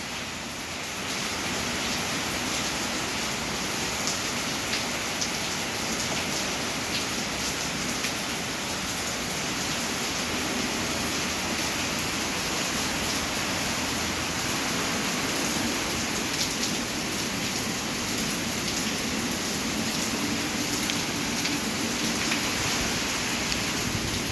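Heavy rain pours steadily with gusting wind during Typhoon Uwan, a dense continuous roar that stays loud and unbroken throughout.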